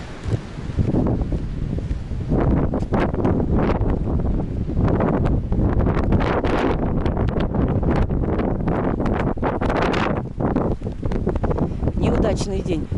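Strong gusty wind buffets the microphone on a beach at Olenevka during a storm, a loud continuous roaring rumble with rustling, and a person speaks briefly under it.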